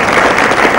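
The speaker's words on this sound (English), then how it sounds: "Can we have a huge round of applause?" Audience at an architecture and interior design festival breaking into loud, dense applause to welcome a speaker, continuous close clapping from many hands.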